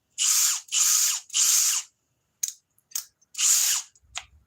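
A Bosch GSB 18V-65 cordless hammer drill runs in loud bursts, three long pulls followed by short blips, one more long run and a final brief burst, with silent gaps between.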